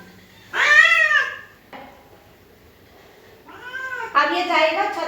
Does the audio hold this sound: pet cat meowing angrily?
yes